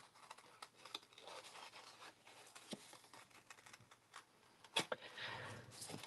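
Small Spellbinders precision scissors snip and scratch through cardstock at close range in a soft, irregular series of light cuts, with a few sharper clicks and no talking.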